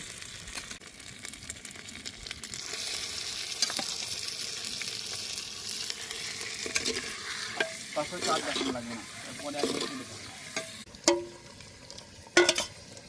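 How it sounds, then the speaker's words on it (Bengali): Chicken pieces frying in oil with cumin, dry red chilli and bay leaf in an earthen clay pot for handi chicken, a steady loud sizzle with scraping stirs and sharp spatters near the end, no talking. "এবার মাংসটা হাঁড়িতে দিয়ে দিচ্ছি"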